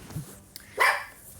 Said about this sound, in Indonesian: Chester gonggong guys